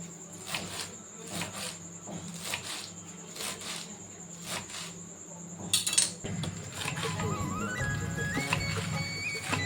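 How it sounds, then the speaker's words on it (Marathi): A knife finely chops fresh spinach on a board in quick, even taps, about two per second, for several seconds. Softer rustling and clinking kitchen handling follow. "छान अशी बारीक पालक इथे चिरून घ्यायची आहे"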